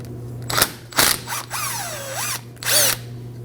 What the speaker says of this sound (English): We can remove our rotor screw with a T30 Torx bit.